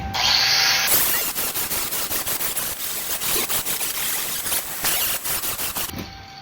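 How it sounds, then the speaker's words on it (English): A 40 grit flat disc grinds down welds on a steel octagon exhaust tip, a harsh buzzing whine that starts abruptly, pulses with uneven pressure for about five seconds, then stops. "We're going to put our 40 grit flat disc on, and we're going to grind down these welds smooth."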